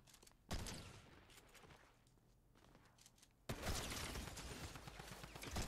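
Bursts of gunfire in a Fortnite Chapter 5 match, a sharp shot early on, then a dense, loud volley of rapid shots in the second half, with no talking.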